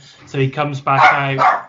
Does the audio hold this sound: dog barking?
yes